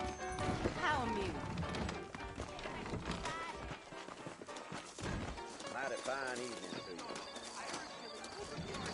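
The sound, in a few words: horses clip-clopping in Red Dead video game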